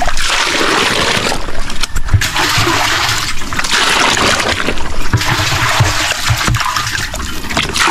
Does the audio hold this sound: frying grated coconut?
no